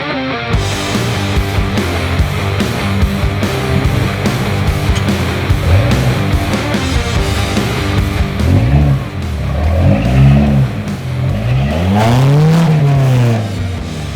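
Toyota Tacoma pickup working off-road over an obstacle, its engine droning loud and close and rising in several strained revving surges that swell and fall toward the end.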